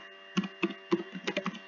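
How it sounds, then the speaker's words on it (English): A short run of clicky computer keyboard keystrokes as a name is typed, about eight or nine distinct key presses in uneven rhythm, close and fairly quiet over a faint steady hum, with no talking. "We type a name in"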